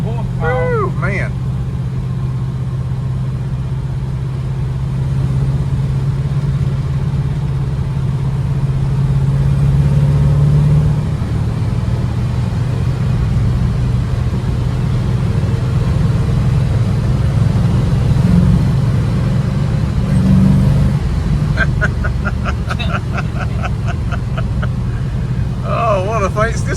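A 1967 Chevelle SS 396 four-speed engine rumbles steadily during a ride, a low continuous drone with slight swells, heard from inside the car under people talking.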